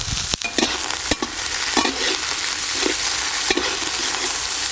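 Red and yellow capsicum with chopped onion frying in ghee, a steady close sizzle with brief stirring scrapes and clicks of a spatula against the pan, no voices.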